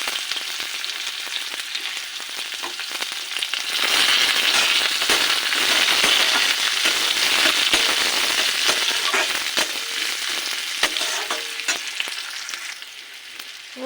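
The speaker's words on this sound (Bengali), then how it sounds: "রসুন কুচিটা একটু ভেজে লাল করে নিয়ে তারপর দিয়ে দেবো পেঁয়াজ কুচি" Chopped onion frying in hot oil after garlic, a steady bright sizzle with crackling pops that grows louder partway through and keeps going without pause.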